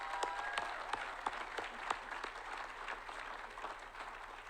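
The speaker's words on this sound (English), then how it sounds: "So let's give that a round of applause." A graduation ceremony crowd at a college commencement claps steadily at a moderate, slightly distant level, individual sharp claps standing out over a continuous patter.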